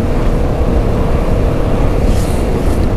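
Motorcycle ridden on the road, a steady loud engine drone with wind rush and no clear revving, continuous throughout.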